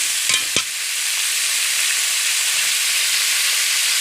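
Pumpkin pieces sauté in a hot pan for a shrimp curry, giving off a steady loud sizzling hiss after two quick clinks of a stirring spoon at the start.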